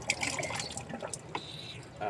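Catfish aquarium water pours and trickles into a container, a soft close splashing with drips, while a person talks over it.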